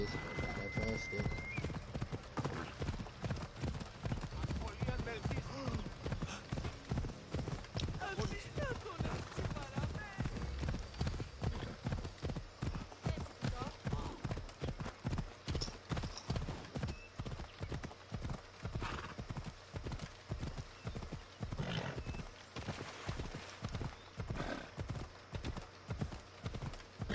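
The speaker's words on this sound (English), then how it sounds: "Don't worry guys, my horse has autopilot." Horse galloping in Assassin's Creed Odyssey, a long, even run of rhythmic hoofbeats close up with occasional snorts, continuing throughout under game ambience.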